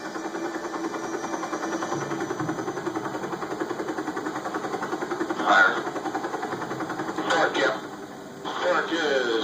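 A Huey helicopter engine idles with a steady, throbbing mechanical drone and a fine rhythmic pulse, fairly loud and close, with a few brief louder swells toward the end.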